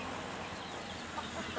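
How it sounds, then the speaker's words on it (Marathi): A rooster at a poultry farm clucks faintly over a steady background hum of the farm, a short low-level call with no talk. "आणि बघा कोंबडा"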